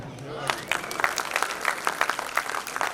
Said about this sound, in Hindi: कुछ तालियां कमजोर आ रही है